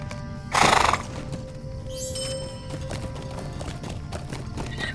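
Horse in the fantasy game LOTRO neighing loudly once, then hooves clip-clopping in a steady galloping rhythm under game ambience.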